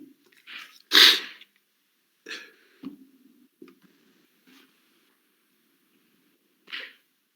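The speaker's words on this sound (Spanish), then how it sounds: "justo me puse a estornudar" A single loud, sharp human sneeze bursts out near the mic indoors during a class, followed by a few faint breaths and small noises, then another short sniff later.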